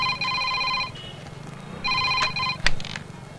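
Phone ringtone in a Telugu film scene, two bursts of electronic ringing separated by a short pause, loud and close over low background noise and a sharp knock near the end.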